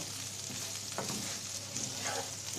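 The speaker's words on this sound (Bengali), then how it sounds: "চালটা একটু তেলের পর ভালো করে ভেজে নেব" Rice frying in oil with salt for a meatless biryani, a steady close sizzle with soft stirring scrapes from a spoon through the grains, no talking.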